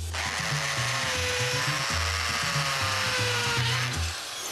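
A power drill set to hammer mode drills with a steady loud whine and a pulsing, rattling percussive chatter underneath, close and continuous without pause, during a home handyman repair job.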